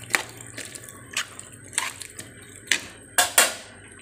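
A spoon scraping and clinking against a pot while stirring rice and vermicelli, a series of short gritty scrapes and knocks at close range, getting louder toward the end.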